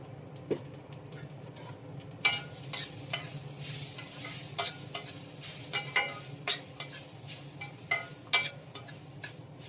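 A spoon stirs and scrapes food frying in a pan with a little oil, giving a run of sharp, irregular scraping strokes over a soft, continuous sizzle.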